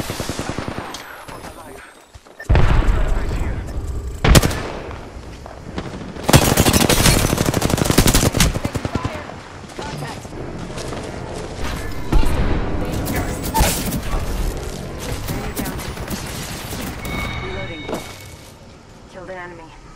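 Gunfire in the video game Apex Legends, with bursts of loud automatic fire and separate single shots over game sounds, alongside voiced character callouts.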